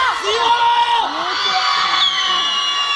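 Audience at a dance show cheering, shouting and whooping loudly together, a dense crowd roar with high voices calling out, steady for the whole stretch.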